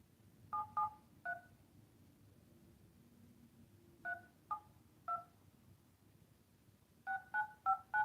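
Telephone keypad tones enter a 10-digit number into an automated phone line: short, clean beeps in uneven clusters, three, then three more, then a final run of four, over a faint low hum.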